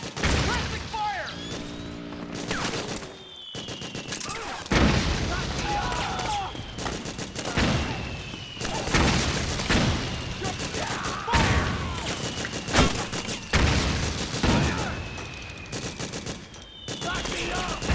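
Sustained gunfire in Metal Gear Solid 4 crackles in rapid machine-gun bursts and scattered shots, with thuds and booms mixed in, loud and continuous, while voices shout over the fighting.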